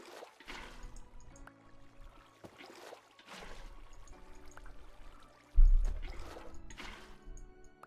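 Water poured from a bucket in modded Minecraft splashes in a short burst amid soft, intermittent liquid trickles and game ambience.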